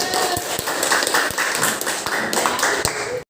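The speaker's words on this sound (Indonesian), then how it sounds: "tepuk tangan untuk kelompok 1" A classroom group claps in quick, uneven rhythm, close by, with sharp individual claps standing out and voices murmuring underneath.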